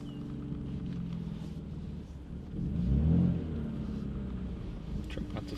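BMW M3 fitted with a VRSF single midpipe exhaust on a road test drive, a low steady exhaust drone that swells briefly into a deeper rev midway before settling back to a cruising rumble, with no talk.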